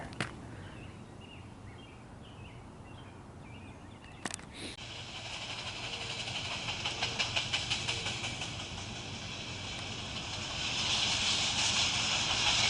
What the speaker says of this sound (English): that's the train you're hearing right now coming at us